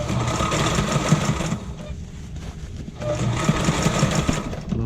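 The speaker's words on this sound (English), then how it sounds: "A little bit of repair and alignment on the sewing machine, on the LSZ1" A Sailrite LSZ1 sewing machine runs after repair and alignment, with a steady, rapid mechanical whirring and clatter that is close and fairly loud, easing briefly in the middle before picking up again.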